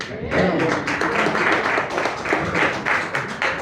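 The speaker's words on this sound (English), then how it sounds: "a round of applause to Mizani" A comedy club audience breaks into sustained applause and some cheering, a dense and steady wash of many hands clapping at close range with a few voices mixed in.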